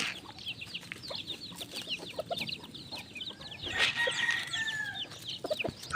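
A young rooster, a white stag, clucks and calls close by at feeding time, with other chickens chattering in the background and faint farmyard noise.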